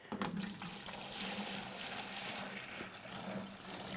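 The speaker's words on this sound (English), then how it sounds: "I start off by putting water" Water running from a tap into a mixing bucket before flexible tile adhesive is mixed, a steady, close splashing rush that continues for about four seconds.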